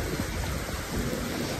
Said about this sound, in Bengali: দেখো কি প্রচন্ড বৃষ্টি পড়ছে,